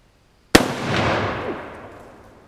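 A single loud, close shot from a 1947 Mosin Nagant M44 carbine firing brass-case ammunition, a sharp crack followed by a long booming echo that slowly fades outdoors.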